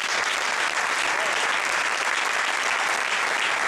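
Steady, dense applause from a crowd at an awards ceremony filling the whole moment, loud and even without pause.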